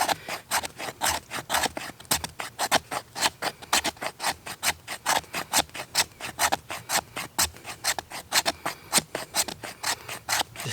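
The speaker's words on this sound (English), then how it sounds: "basically what I'm going to do is just scrape this fat wood" A Mora knife blade scraping fatwood in a rainy woodland camp, a steady run of short, even rasping strokes repeated rhythmically, close and clear with no talking.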